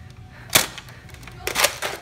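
Two sharp popping shots from toy blasters in a Nerf war, each a brief snap about a second apart, fairly close with quiet background between.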